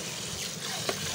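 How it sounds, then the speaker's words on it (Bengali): Drumstick vegetables are washed by hand in water, giving a steady splashing, trickling wash that stays close and moderately quiet for about a second, with no talking over it. "আমি এই যে সজনাগুলো ধুয়ে নিচ্ছি"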